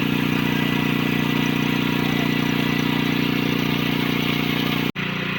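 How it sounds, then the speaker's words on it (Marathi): A motor pump draining water from a pool to catch fish runs with a steady, loud, droning hum and water rush, cutting out abruptly near the end. "ह्या साईडला मोटार लावलेली आहे आणि मोटार लावून आपल्याला मासे पकडायचे आहेत"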